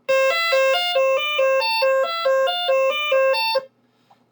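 A basic LSDJ chiptune phrase plays back on a Game Boy: a steady run of bright, bell-like square-wave notes stepping up and down in even rhythm for about three and a half seconds, then stopping abruptly into near silence.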